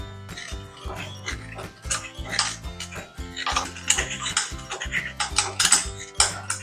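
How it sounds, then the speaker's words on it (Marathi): Fresh wet coconut grated by hand for a Konkani patoli filling, giving a busy run of rapid scraping and scratching strokes with small clinks of the grater, close and fairly loud, with no talk over it. "आता आपण सारासाठी ओला नारळ किसून घेऊया"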